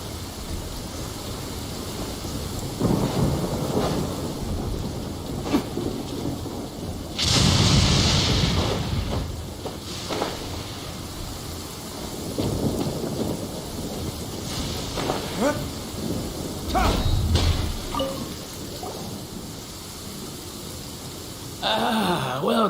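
Steady broadband rain hiss in Genshin Impact, with low thunder rumbles swelling around the middle and again later, plus quieter game sounds and faint voices underneath.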